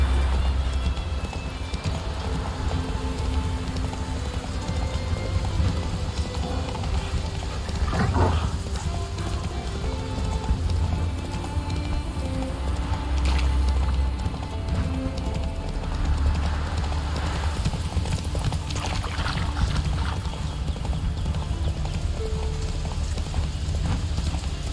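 Galloping hoofbeats of Roach, Geralt's horse in The Witcher 3, pound in a steady rapid clip-clop over constant game ambience and music for the whole stretch, fairly loud and continuous.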